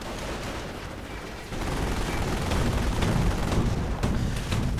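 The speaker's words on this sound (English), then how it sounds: "Lots of artillery now." Artillery fire rumbles through a video game battle as a continuous roar of distant booms and blasts, growing heavier and louder partway through and then holding steady.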